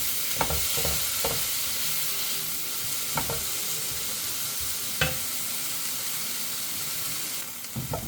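Mushrooms sautéing in a sturdy frying pan for a home-cooked lunch: a steady, close sizzle runs throughout, with a few sharp clicks and scrapes from stirring and no voices.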